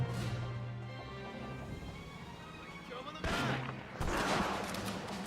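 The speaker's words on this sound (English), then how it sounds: "Oh, come on, I shot him in the pelvis." Gunfire in the World War II shooter game Medal of Honor: Rising Sun: a steady rumbling battle bed broken by two loud, sharp blasts near the end, with a voice talking faintly underneath.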